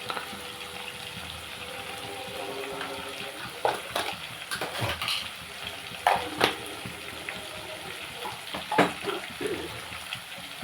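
Crab fry masala with garam masala and coriander powder sizzles in a pan while a spoon stirs it, giving soft frying hiss broken by irregular scraping and clinking strokes close by.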